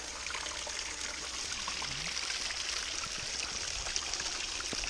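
Running water for a feed gives a steady, moderately faint hiss of flowing, trickling water that continues unbroken throughout.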